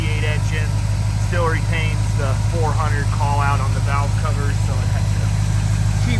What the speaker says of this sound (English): Motor sounds nice and tight.